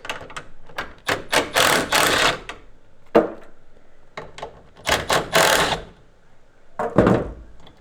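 A power driver with an 8mm bit backs screws out of a taillight housing on a Ford F-150, giving short whirring bursts separated by brief pauses, close and clear.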